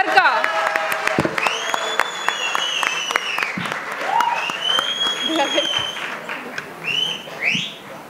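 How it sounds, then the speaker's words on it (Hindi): An audience applauds to welcome a speaker onto a stage at a scientific society event, a dense sustained clapping with whistles and scattered cheers, voices mixed in, tapering toward the end. "जोरदार तालियों के साथ मंच पर स्वागत करते हैं सर का।"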